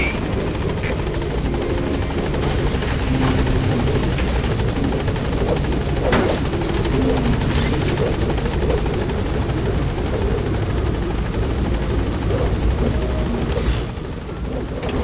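A B-Quad helicopter in Metal Gear Solid V: The Phantom Pain arrives at a landing zone, its loud, steady rotor roar and engine whine filling the whole stretch and easing slightly near the end.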